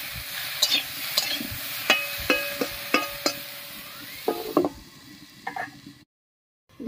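Jute leaves with turmeric and salt cooking in a covered pan give a soft, steady sizzle with a few light knocks and clicks, fairly faint and close, then dropping to silence near the end.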